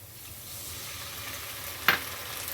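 Ginger-garlic paste sizzles in hot oil over golden-brown fried onions, a steady low frying hiss with one sharp spattering pop near the end.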